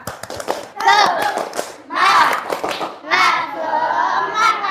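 Children in a classroom perform a rhythmic spirit clap, several bursts of group hand clapping mixed with children's chanting voices, close and lively.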